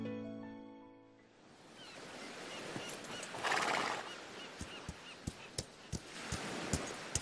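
A horse gives a loud whinny at the start, followed by a run of sharp, evenly spaced hoof clops and rustling movement in an animated farm scene.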